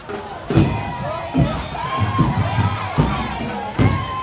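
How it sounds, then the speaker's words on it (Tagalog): A street crowd at the Karansa Festival parade in Danao City cheers and shouts in repeated bursts. Sharp claps or drum hits punctuate a continuous hubbub of voices. "the crowd is cheering for our contingent number 4"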